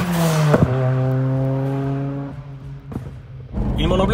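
A tuned 396 hp Ford Sierra RS Cosworth engine revs up, holds a steady high drone for a couple of seconds, then drops back and rises again, loud and close.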